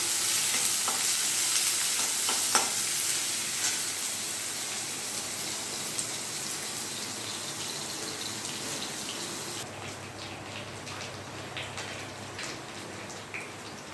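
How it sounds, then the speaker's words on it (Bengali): Onions sizzle and fry steadily in a hot wok, a dense, continuous hiss with occasional stirring clicks, close and fairly loud throughout with no voices. "এবার কিছু পেঁয়াজ ফোড়নে দিচ্ছি দেখো পেঁয়াজটা আমি ভেজে নেব একটু লালচে লালচে করে পেঁয়াজটা ভেজে নেব"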